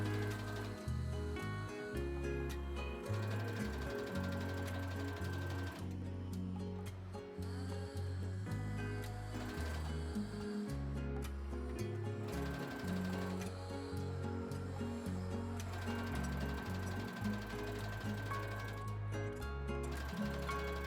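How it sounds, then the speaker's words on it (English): A sewing machine running a long temporary stitch on bikini fabric at close range, a continuous mechanical whir and rattle with a few brief pauses in the stitching. "I'm also going to use the longer stitch length on my sewing machine"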